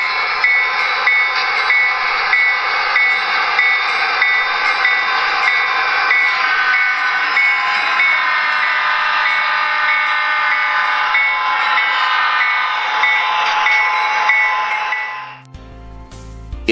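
A loud, steady rumble of a Santa Fe diesel train rolls past for most of the clip with sustained horn notes over it, then abruptly cuts off near the end.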